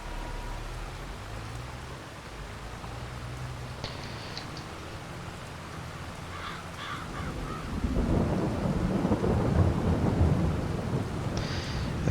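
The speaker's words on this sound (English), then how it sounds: "The rain should be stopping." A thunderstorm over a ranch builds from low rumbling into heavy rain that grows louder partway through, with crows cawing faintly now and then in the distance.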